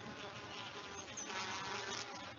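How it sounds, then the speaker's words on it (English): Worker bees buzzing inside a hive, a dense, steady drone of many wings holding at an even, close level throughout with no voices. "Worker bees do almost all the chores in the hive."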